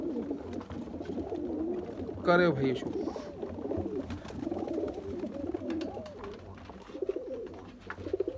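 Flying breeder pigeons coo in soft, low murmurs at close range, with a brief louder flutter or call in the middle and someone talking over them.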